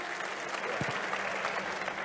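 Applause from a seated audience at an Indonesian public discussion, a soft, even patter of clapping heard from some distance, steady throughout without any break.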